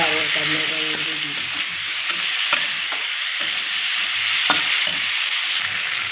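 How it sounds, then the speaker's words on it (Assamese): Potato pieces with whole cumin seeds sizzle steadily in hot oil in a kadai, a continuous close frying hiss broken by occasional stirring clicks and a few faint voiced sounds at the start. "ইফালে আলু ভাজিটো দি দিলোঁ কেৰাহীত, গোটা জিৰা দুটামান দি দিছোঁ তেলত"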